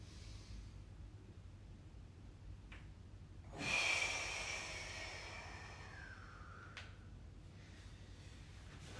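A deep breath drawn in during a Pilates exercise, one strong rushing inhale close to the mic in a quiet room, then a softer trailing breath.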